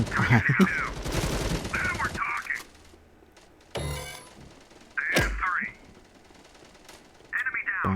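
Bursts of rapid gunfire in the video game MATR1X FIRE alternate with excited talking, sharp shots cutting in between stretches of speech and quieter gaps.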